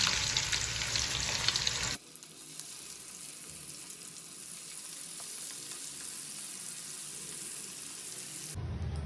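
Chicken shallow-fries in a pan, a loud sizzle for the first two seconds, then a quieter steady crackle and hiss, before the loud frying returns at the very end.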